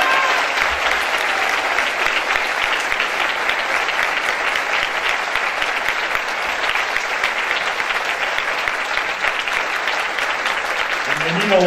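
Loud, sustained audience applause on a television show set for actor Eric del Castillo, dense and steady from start to finish, with a voice speaking briefly near the end.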